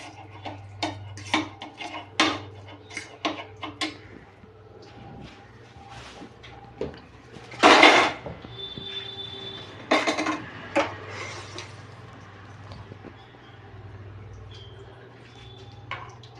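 A spoon scrapes and clinks against a bowl while ground black pepper is mixed into a chicken and cheese sandwich filling, in irregular taps with a few louder knocks partway through, no voices.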